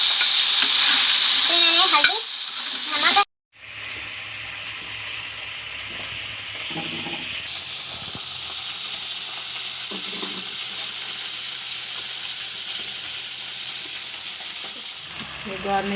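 Chicken achari frying and being stirred in a pan, a steady close sizzle with scraping stirs and a brief loud hiss near the start, then continuous frying.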